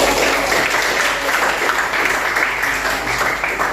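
Students clap together in a school classroom during a grade 8 informatics lesson, a dense, steady burst of applause that holds at an even level throughout, with no voices heard.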